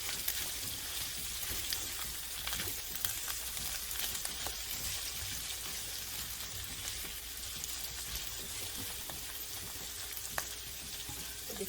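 Carrots and string beans saute in a hot pan, giving a steady, close sizzle and crackle that runs the whole time, with faint scattered pops and no voices.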